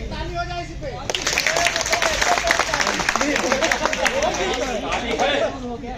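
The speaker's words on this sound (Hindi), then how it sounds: "ताली है ना" Crowd clapping at a protest sit-in, starting abruptly after a voice speaking and continuing as a dense, fairly loud patter of many hands mixed with chatter and shouting voices before cutting back.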